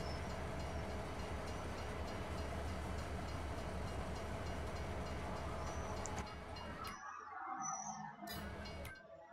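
A train runs in Farming Simulator 22 with a continuous low rumble and rolling clatter that holds steady, then drops away suddenly near the end, leaving faint tones behind.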